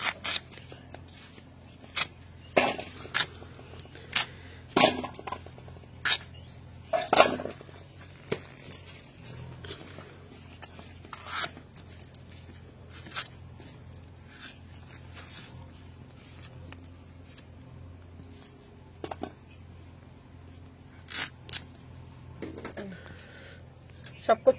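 A knife cuts through giant taro in a village kitchen, giving sharp, irregular chopping clicks spread across the stretch with quiet pauses between them, faint and close.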